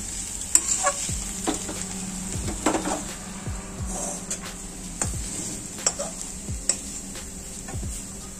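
Steady frying sizzle of banana stem in a pan with repeated scraping and stirring strokes, fairly close, no talking.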